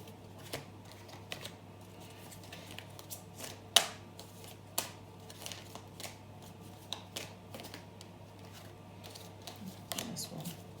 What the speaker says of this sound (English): give me a moment while I shuffle